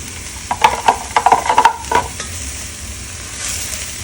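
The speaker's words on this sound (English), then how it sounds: "stir it up until the onions are incorporated" Vegetables stirred in a pan for lumpiang sariwa: onions, sweet potatoes and carrots scraped and turned, giving a burst of close utensil scrapes and clatters over a low sizzle, then a quieter steady cooking hiss.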